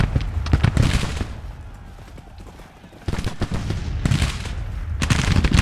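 Volleys of musket fire crackle in a Civil War strategy game, bursts of sharp overlapping shots that come in clusters, with quieter gaps between them.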